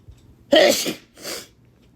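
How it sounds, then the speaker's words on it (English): A person sneezes close to the microphone, one sharp loud burst followed by a softer second expulsion, in an otherwise quiet room. "I'm sorry, guys, if I keep sneezing"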